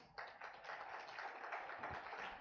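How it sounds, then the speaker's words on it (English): Applause from a conference audience at a fintech event: a steady wash of many hands clapping, heard from a distance in a large hall, fairly faint and even throughout. "Can we give them a big round of applause?"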